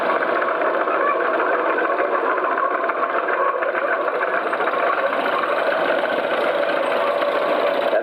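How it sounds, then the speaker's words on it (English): A John Deere Lindemann crawler tractor tows a seven-furrow mouldboard plough at a steam and traction rally, its engine running as a steady, loud, continuous drone with a rough mechanical texture throughout. "John Deere Lindemann tractor, crawler. He's towing"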